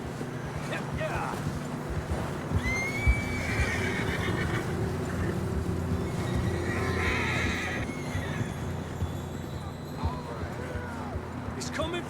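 Horses in Red Dead Redemption 2 whinny several times over steady hoof and wind noise in a snowy mountain ride, with people talking throughout.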